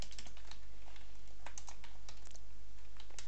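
Rapid, uneven typing on a computer keyboard during live C# coding for a Minecraft server launcher, with dense clusters of clicky keystrokes over a steady low hum and no talk.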